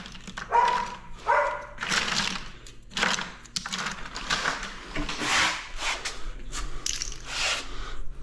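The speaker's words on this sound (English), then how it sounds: "what are the doggies barking at?" Dogs barking somewhere near a house where floor tiles are being laid, a series of irregular sharp barks at moderate distance mixed with scraping and clicking work noises.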